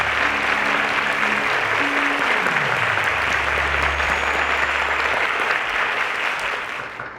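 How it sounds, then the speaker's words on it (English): A studio audience applauds teachers on a quiz show, giving dense, sustained clapping with a low musical tone and a sliding note underneath before it fades at the end. "a round of applause to our teachers"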